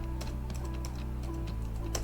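Quick bursts of keystrokes on a computer keyboard as a place name is entered into a light pollution map search, close and fairly soft, with no voice over it.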